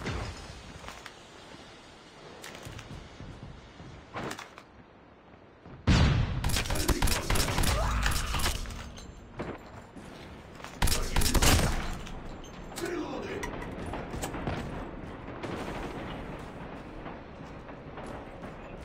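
Video game gunfire rattles in a dense, loud fusillade of overlapping shots and heavy blasts, with two intense bursts of rapid fire amid quieter stretches and a voice talking over parts.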